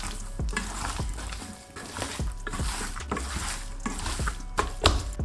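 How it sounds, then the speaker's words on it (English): Raw chicken wings are mixed by hand with garlic powder, chilli, MSG, black pepper, paprika and salt. Close, wet squishing and slapping sounds come in irregular bursts. "Wash your hands and give this a really good mix."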